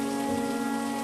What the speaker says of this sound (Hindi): कुछ देर चलने के बाद बारिश होने लगती है।